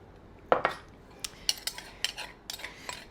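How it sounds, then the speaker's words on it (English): Salad leaves being tossed with micro herbs, utensils knocking against the bowl in a run of sharp, irregular clinks and taps, close up with no talking. "Let's mix that in with the salad."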